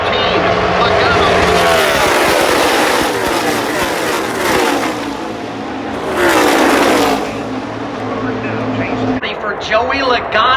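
NASCAR race cars racing at Talladega roar past in loud waves, engines rising and falling as packs pass close by, with a commentator talking over the noise.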